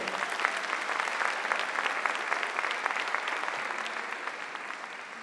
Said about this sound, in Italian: vi dovete fare un applauso a voi